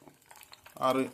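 Curry leaves hit hot coconut oil for a Kannur-style Arabian chicken chukka, bursting into a sudden loud crackling sizzle after a brief quiet moment.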